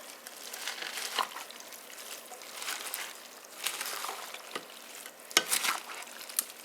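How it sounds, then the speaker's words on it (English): A summer salad is stirred together in a bowl, giving close, wet mixing and squelching sounds with repeated scrapes and light clinks of a utensil against the bowl. "So we're just going to stir it together."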